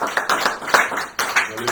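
A church congregation claps in a quick, steady rhythm. Voices call out over and between the claps, giving a lively, close, crowded sound.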